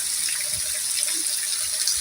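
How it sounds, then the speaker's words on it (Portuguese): Heavy rain pours steadily in a dense, loud, continuous hiss of falling water with low splashing underneath and no talking. "É água aqui, ó. Caiu Toró."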